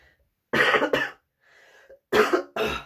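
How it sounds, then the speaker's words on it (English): A person coughs in a few harsh bursts, two quick pairs separated by a brief quieter throat-clearing sound, close and otherwise quiet. "Sorry for my coughing."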